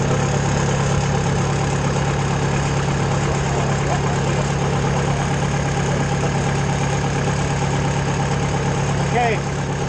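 Engine of a Mayco LS-40 concrete pump running at a steady, loud, droning idle throughout, with a brief voice near the end.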